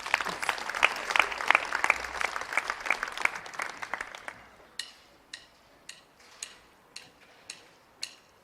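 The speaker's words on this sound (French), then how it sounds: "Allez, on applaudit très très fort Claire s'il vous plaît." An audience at a 2019 singing contest final applauds a singer named Claire, dense clapping for about four seconds before thinning into a few sharp, spaced single claps.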